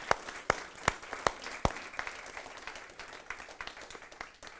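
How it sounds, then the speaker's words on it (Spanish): A church congregation at a Bible study on John 3 breaks into applause: several sharp, loud claps in a slow rhythm first, then a fainter, denser patter of many hands that tapers off. "¿Cuántos pueden darle un fuerte aplauso al Señor por esto?"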